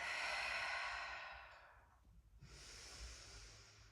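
Slow, close breathing during a head-below-heart yoga inversion with the pelvis on a block and feet pressed into a wall: a long airy exhale fades into a pause, then a steady inhale follows, with no talking.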